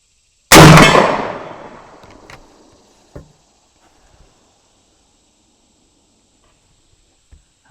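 A Maverick 88 fully rifled slug gun fires a single loud, close shot that rings out and decays over a couple of seconds, followed by a few faint clanks and knocks.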